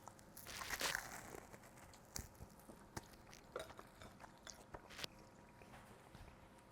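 A steak sandwich topped with arugula salad and sweet potato fries are eaten, with faint close bites, crunches and chewing in a quiet room and no talking.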